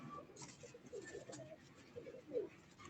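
Pigeons kept on a rooftop loft cooing softly, low faint murmuring calls repeated in a loose rhythm against quiet outdoor background.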